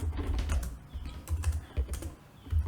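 Quick bursts of typing on a computer keyboard, close and fairly loud, come in uneven runs of clacking keys with brief pauses between them.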